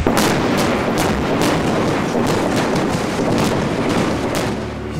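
A demolition blast at Condit Dam on the White Salmon River, a loud sustained roar of rumbling booms and cracking bursts filling the whole stretch without let-up.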